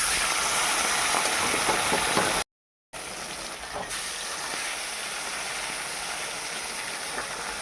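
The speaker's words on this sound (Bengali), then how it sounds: "দুটো মাছ ভেজে তুলে নিয়েছি আবার এই মাছটাকে দিয়ে দিচ্ছি" Pomfret fish, large and fried one at a time, sizzling in hot oil: a steady, close, broadband hiss that cuts out for about half a second, then resumes unchanged.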